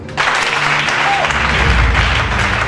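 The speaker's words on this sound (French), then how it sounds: "lève-toi, acclame pour lui" A church congregation applauds, a dense, steady roar of clapping that swells in after a brief quiet start and keeps going at full strength, with voices mixed into the crowd noise.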